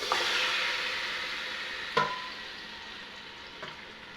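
Chicken biryani ingredients tipped into hot oil, a broad hiss of sizzling that slowly fades, broken by two or three sharp clinks of stirring, close and with no voices.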